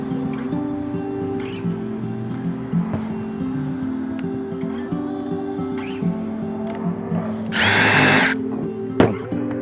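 A power drill bores a hole through a door hinge jig template in a workshop, a steady whirring run with a brief louder burst near the end, followed by a sharp click.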